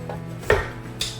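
A metal bowl knocks into place on a stand mixer fitted with a paddle attachment, two sharp close clunks about half a second apart with no talk.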